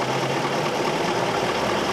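A V8 engine misfiring and running on only three cylinders gives a steady, loud, rough drone with an uneven, knocking undertone. It is close up, with no voices.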